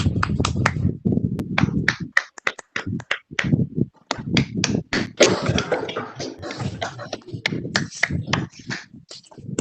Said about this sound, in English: and big clap for Ravinder sir.